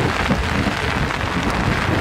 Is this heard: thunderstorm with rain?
yes